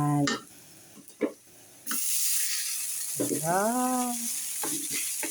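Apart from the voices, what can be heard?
garlic fried rice frying and being stirred in a pan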